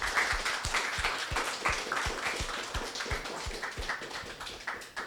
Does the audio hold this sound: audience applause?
yes